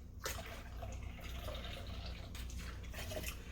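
Lime juice pours into a margarita being mixed with anejo tequila, a quiet liquid trickle and drips over a low background hum, close and soft, with no talk.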